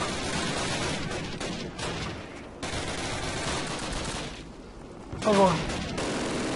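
Bursts of rapid machine-gun fire from a Call of Duty match crackle in short volleys amid game noise, with a player speaking briefly over the shooting.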